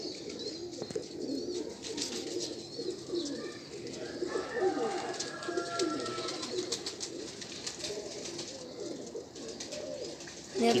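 A high-flying pigeon coos softly in a quiet setting, with low, repeated throaty calls and a few faint chirps from other birds at a moderate distance.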